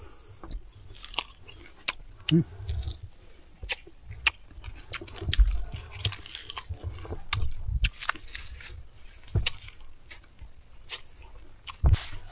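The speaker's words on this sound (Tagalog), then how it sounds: "kakainin na natin itong biyabas" Repeated sharp crunchy bites and wet chewing of a ripe guava close to the ear, irregular clicks and crunches continuing for several seconds with no talking.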